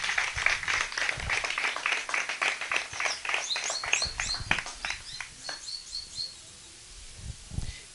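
A religious congregation clapping at a service, a quick rhythmic patter of many hands that thins out and fades to a few scattered claps near the end.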